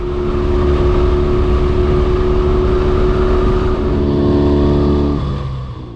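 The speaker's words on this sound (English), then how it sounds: "That bike is just great to ride." A 1957 BMW R60 motorcycle carries its rider along a highway near the edge of the Black Hills, a loud steady engine drone with wind rush that holds even, then eases off near the end.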